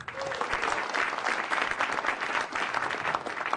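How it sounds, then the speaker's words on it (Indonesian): A theatre audience at a televised Indonesian stand-up comedy show claps steadily, a dense wash of applause at moderate distance with no break throughout. "Sekali lagi tepuk tangan dulu untuk apresiasi film Indonesia."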